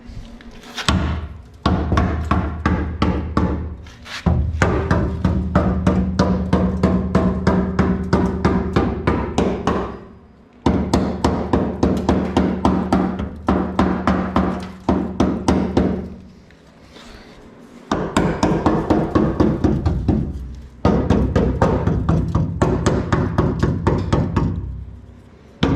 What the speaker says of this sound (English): I'll take the old hammer to it.